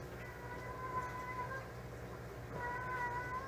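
A female cat in heat meows repeatedly in drawn-out, wavering calls at a moderate distance, indoors over a steady background hum.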